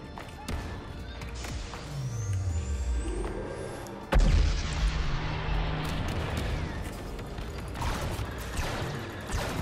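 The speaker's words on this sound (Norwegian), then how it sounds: "Det er jo kanoner her." Cannon fire in a Star Wars video game: a heavy boom lands midway through, surrounded by sweeping whooshes and scattered thumps of battle effects, with voices in the mix.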